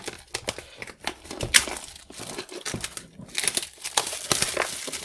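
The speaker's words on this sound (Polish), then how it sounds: "zacznijmy od zdjęcia tej folii. A więc delikatnie, żeby nie uszkodzić pudełka" Plastic shrink film being peeled carefully off a cardboard card box, giving close, irregular crinkling and crackling with brief tearing bursts that grow busier toward the end.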